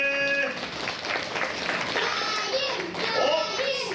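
Audience clapping during a Turtle Talk show at Tokyo DisneySea, a steady patter of hands mixed with children's voices and chatter, with short tonal effects over it.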